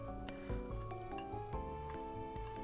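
Hot water is poured over coffee grounds in a pour-over brewer, a soft, close liquid trickle with small dripping and bubbling pulses, quiet and without talk.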